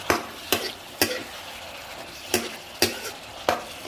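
Chicken with ginger is stir-fried in a pan, a utensil scraping and knocking the pan in sharp, roughly regular strokes over a low sizzle as green onion is added, no voices heard.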